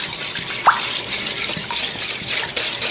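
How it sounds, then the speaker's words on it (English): Eggs being whisked in a bowl into a yeasty liquid for cinnamon roll dough: a steady run of quick, scratchy, splashing strokes, close and fairly loud, with no talking. "So now we're just going to whisk that to combine."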